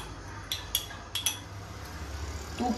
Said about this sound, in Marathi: आता मी एक चमचा तूप ह्याच्यात घालणार आहे.